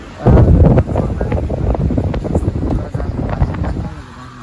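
Gusty wind buffets the microphone in loud, rumbling bursts, with a brief stronger gust near the start and no talking.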